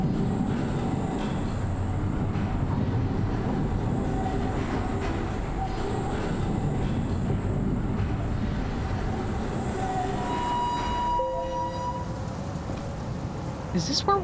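A tram ride in the video game Abiotic Factor, with a continuous rumbling rattle of rail cars running loud and steady throughout, then high metallic squeals and tones near the end as it brakes, while people talk over it.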